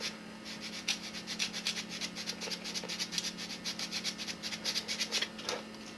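Folded sandpaper rubbing back and forth in a notch, sanding a groove the width of a wire, with a fast steady scratchy rhythm over a low constant hum.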